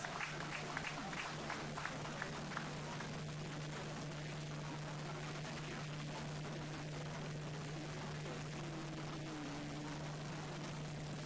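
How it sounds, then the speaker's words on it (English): Audience applause at the 41st National Farmers' Day celebration in Ho, Volta Region, Ghana, a faint, steady wash of clapping from a distant crowd over a constant low hum. "let's receive him with a round of applause."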